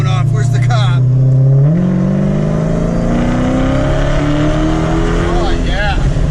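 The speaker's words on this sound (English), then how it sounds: "out here we'll get a good sound of this Hellcat accelerating" A 2017 Dodge Challenger Hellcat accelerates hard on a road in Myrtle Beach, South Carolina, its engine note rising loud and close as it shifts through gears, heard continuously over several seconds.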